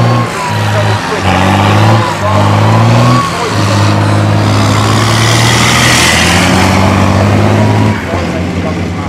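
CVRT Scorpion light tracked armoured vehicle moving fast over ground, a loud continuous engine drone with shifting pitch and rumble throughout, recorded close.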